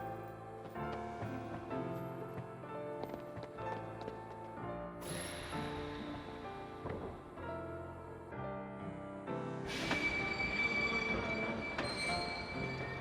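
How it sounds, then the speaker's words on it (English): Train ride in the video game Kingdom Hearts 2, a blue train topped with a wizard's hat, rolling steadily with wheel squeals and rattling mixed into continuous game music. "And away we go on the mysterious blue train with a wizard's hat on it."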